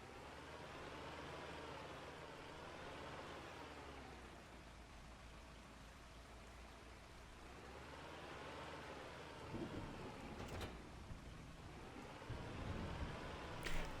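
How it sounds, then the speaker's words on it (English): Rain on a farm with thunder, long low rolling rumbles swelling and fading over a constant wash of falling rain, with a few louder bursts toward the end. "I think this is the second time it started raining."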